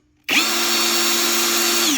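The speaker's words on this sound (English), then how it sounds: "just blip the trigger to check that the drill bit is rotating evenly" A Ferrex cordless drill whirs at a steady high pitch for about two seconds, spinning its bit, starting abruptly after a brief silence, close and loud with no talking.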